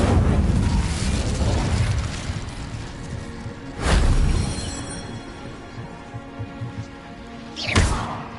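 Incendio fire spells cast in the video game Hogwarts Legacy: loud booming blasts, one at the start, another midway and a third near the end, each swelling and fading over a rumbling backdrop.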